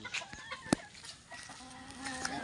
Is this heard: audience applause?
no